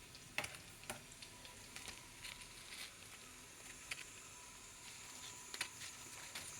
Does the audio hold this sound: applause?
no